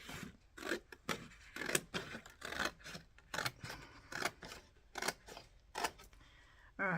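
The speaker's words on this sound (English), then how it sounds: "I'm cutting on the line." Scissors snip through paper along a drawn line, a close, quiet series of about a dozen rhythmic crisp cuts at a steady pace, with no talking.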